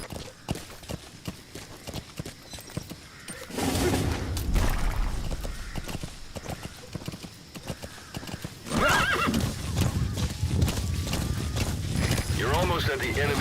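A horse gallops in Metal Gear Solid V: The Phantom Pain, with rapid rhythmic hoofbeats, neighs and whinnies, and bursts of louder running mixed with game effects and talk.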